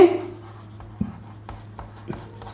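Writing on a board in a classroom: a handful of distinct marker or chalk taps and short strokes at an uneven pace, close and moderately loud, with a teacher's voice faintly present.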